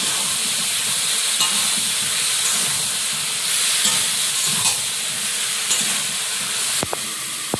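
Potato and eggplant tossed into fried spice paste in a hot pan, giving a loud, close, continuous sizzle with a steady hiss and occasional soft stirring knocks, with no talk over it.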